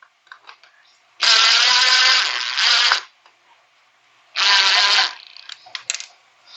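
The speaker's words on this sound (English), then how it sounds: "So I started screwing in this side here. I'm going to go ahead and keep that going." Power screwdriver driving screws into a plastic in-wall cable management box with an electrical outlet, two loud whirring bursts of about two and one seconds, separated by quiet handling clicks.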